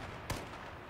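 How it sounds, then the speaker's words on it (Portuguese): A single sharp gunshot rings out in the H1Z1 battle royale video game, a brief loud crack over a steady low background hiss. "Tô dando uns tiros aqui"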